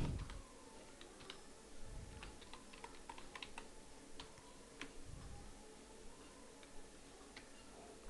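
Keys clatter on a computer keyboard as an email address is typed, irregular quiet clicks and taps spread across the stretch with a few soft thumps, no talk.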